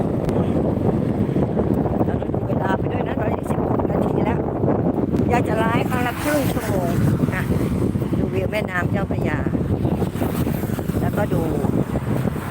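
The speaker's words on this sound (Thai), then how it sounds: "ลมก็แรง" Strong wind roaring and buffeting the microphone throughout, with people talking over the steady rush, while walking across the Taksin Bridge at Sathorn in Bangkok as rain approaches.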